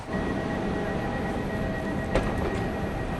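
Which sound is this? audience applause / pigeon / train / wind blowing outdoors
train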